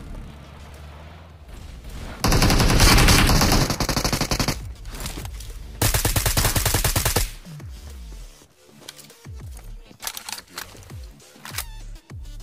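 Gunfire in the video game BGMI: two long, loud bursts of rapid automatic fire, followed by a spatter of quieter single and double shots at irregular intervals.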